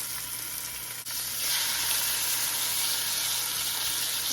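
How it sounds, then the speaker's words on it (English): Shrimp sizzling in a hot pan with chopped garlic, a steady loud frying hiss that swells after a brief stir-like dip and holds on without talk. "Start adding my shrimp to cook."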